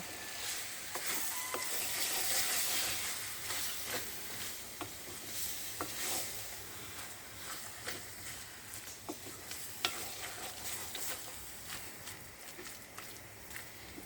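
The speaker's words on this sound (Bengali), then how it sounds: "এখন এটাকে ভালোভাবে নেড়ে নিব।" Salted jolpai (olive) pickle mixture being stirred in a pan, with repeated scraping strokes over a steady low sizzle, close and moderately loud, no voices.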